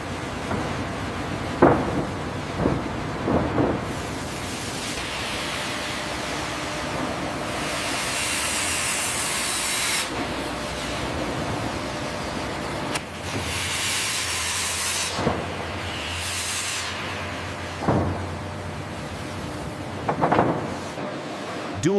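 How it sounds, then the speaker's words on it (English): In a plywood mill, hot boards leaving a press give broad hissing whooshes of steam and hot air that surge and fade several times over a constant industrial rumble, with occasional sharp clanks. "the hot boards slide onto the cooling conveyor, emitting a whoosh of hot air and steam"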